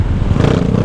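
A motorcycle with an upturned exhaust pipe revs loudly and close by, a dense, rumbling engine roar that holds steady through the short burst with no talking.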